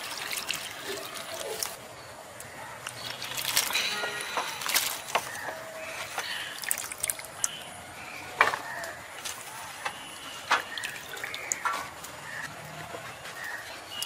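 Chopped pointed gourds are rinsed by hand, soft splashing and trickling water with sharp knocks against a bowl, fairly faint and close, with brief background bird chirps.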